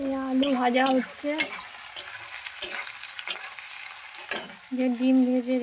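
Potatoes fry in a pan with a loud, close sizzle, repeatedly punctuated by clanks and scrapes of stirring, and with a tonal whine at the start and end.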